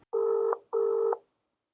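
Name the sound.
phone call being dialed, unanswered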